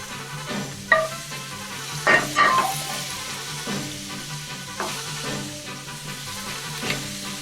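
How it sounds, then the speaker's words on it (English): Chunks of meat searing in hot olive oil for a stew, a steady close sizzle with a few sharper crackles and stirring clatters when the pieces are moved. "So when we put this meat in, you're gonna hear it just sizzling."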